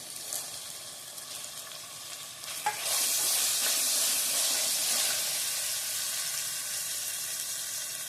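Tomatoes hit a pan of frying onion masala for chicken gravy, with a clink and stirring, then a loud, bright sizzle rises sharply and holds steady up close, no voices present.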